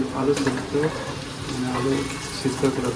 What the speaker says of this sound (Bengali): মানে আলু সিদ্ধ করে ভাজা চলছে